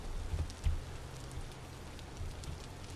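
Steady rain falls in the video game Vintage Story, a soft continuous patter with a few low thumps, fairly quiet and without speech.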